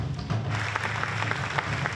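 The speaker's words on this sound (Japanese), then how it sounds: "皆様盛大な拍手でお迎えください。" An audience at a press conference announcing new regular cast members for a samurai TV drama applauds, a dense and steady patter of many hands at moderate volume.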